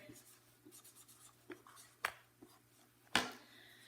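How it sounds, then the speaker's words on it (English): Faint scratchy strokes of a pencil writing a short word on paper, a few quick soft scrapes followed by two sharper taps or marks, close and quiet with no talking. "Go ahead and write the word home on your piece of paper and check your answer."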